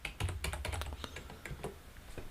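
Rapid typing on a computer keyboard, a dense run of sharp, close key clicks with uneven rhythm and no talk.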